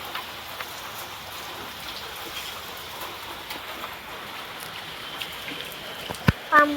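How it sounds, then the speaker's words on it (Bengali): Rain falls steadily in a soft, even patter, with a few scattered drips. A brief voice and a couple of sharp knocks come near the end. "আর এদিকে বৃষ্টি"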